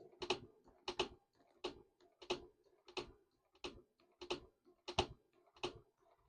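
Sewing machine stitching through a thick layer of zipper, vinyl and batting, giving nine evenly spaced, sharp mechanical clacks at a steady rhythm, close and moderately quiet, with no talk.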